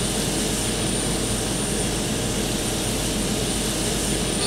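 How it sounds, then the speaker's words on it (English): A Boeing 727's number 3 engine spools up in a flight simulator game, a loud, steady broadband jet roar with a thin high whine, continuous and unbroken with no talk. "Starting engine number 3."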